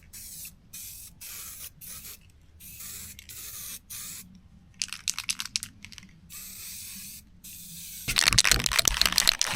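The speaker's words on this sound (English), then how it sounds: "So I'm just using U-Pol, which I think is a really good paint in a can, and I'm just using a etched primer." U-Pol etch primer hisses from a spray can onto bare aluminium on a camper roof rack, in a series of short bursts separated by silent gaps, ending in a longer, louder spray close by.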